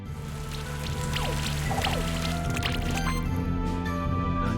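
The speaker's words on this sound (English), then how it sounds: "I'm gonna do acid rain on you." An acid rain attack effect in the video game Monster Sanctuary, a dense, close patter of falling drops with crackling splashes, laid over a steady, looping musical background.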